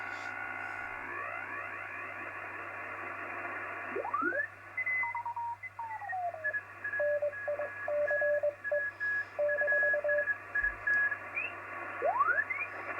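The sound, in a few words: radio interference from switch mode power supplies on HF band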